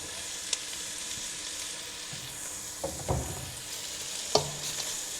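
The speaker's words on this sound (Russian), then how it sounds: "сейчас будем добавлять морковку со свеклой. Добавляем морковь." Carrots go into a pan of borscht vegetables over a low, steady sizzle, with a few soft stirring scrapes and clinks, and no voices.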